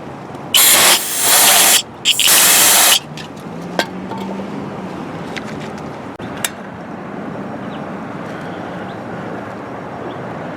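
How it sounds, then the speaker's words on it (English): Brake cleaner sprayed from an aerosol can during an oil change on a 1998 Toyota 4Runner V6, heard as two loud, close hissing blasts in the first three seconds, followed by quieter workshop ambience with faint clicks. "I stuff some blue rags up in there and clean it all up and spray it with brake cleaner."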